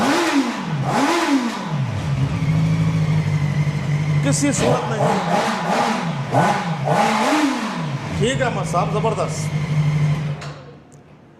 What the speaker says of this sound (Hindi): ब्रांडेड बाइक साउंड से किसी तौर कम नहीं